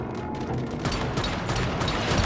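Gunfire in the survival shooter Once Human, a dense, continuous burst of shots and booms filling the whole stretch, loud and close with no pauses.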